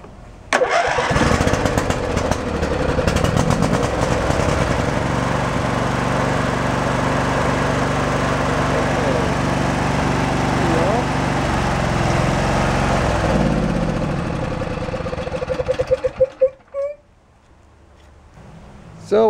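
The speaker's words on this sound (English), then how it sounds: "instead of shutting off immediately when I turned the key off like it's supposed to, the engine continued to run for a moment or two" Briggs and Stratton Intech V-twin engine on a riding mower runs steadily and loud for about fifteen seconds, then keeps chugging on briefly after the key is turned off before sputtering and backfiring into silence.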